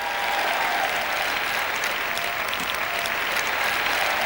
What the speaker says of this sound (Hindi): उस समय के लिए आइए ताली बजाएं।